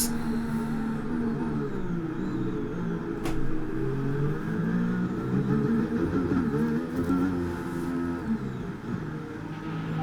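Race car engine in F1 23 with a suspected engine problem, a continuous close whine that rises and falls with revs through the gears across the whole stretch, with no talk.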